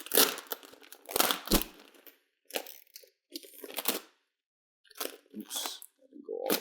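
Excess SMT02 Burnt Maroon vinyl wrap film is cut away from a car hood in crisp, crinkling bursts of rustle and snipping, separated by short silent gaps. The sound is close and fairly loud.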